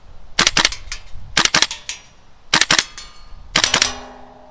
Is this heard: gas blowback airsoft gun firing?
yes